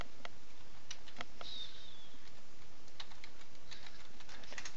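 Fingers tap out an IP address on a computer keyboard, a quick, light run of clicks against a steady hiss with no talking.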